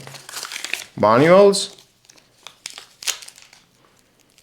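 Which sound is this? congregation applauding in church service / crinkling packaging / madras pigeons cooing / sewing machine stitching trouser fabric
crinkling packaging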